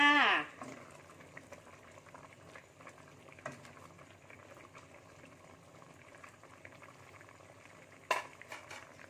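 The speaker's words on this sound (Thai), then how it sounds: "แกงของเราก็เดือดเต็มที่แล้วนะคะ" Thai green curry with tender pork neck, bamboo shoots and coconut milk bubbling steadily in a pot, a soft continuous simmering hiss with a louder clatter at the start and a brief knock near the end, no talk.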